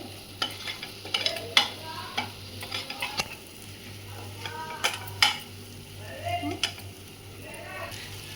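Masala paste for an ivy gourd (dondakai) curry fries softly in a pan while a spoon stirs and scrapes it in irregular clinks and taps, with faint talk now and then and a low steady hum underneath.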